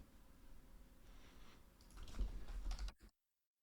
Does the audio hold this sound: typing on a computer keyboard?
yes